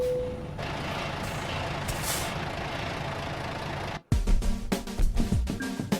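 Parking air brake set on a truck in American Truck Simulator, with a steady engine hum, a sudden cut, then a hissing release followed by several clanks and bumps.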